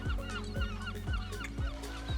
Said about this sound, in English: I'm worried about the seagulls that they're gonna take my skewers.